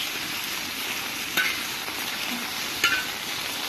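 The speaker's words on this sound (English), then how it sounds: "cook the bacon and the sausage separately, just to make sure that the bacon's cooked good" Bacon and sausage fry on a disc cooker outdoors in New Mexico, giving a constant close hiss of sizzling fat with a couple of small pops.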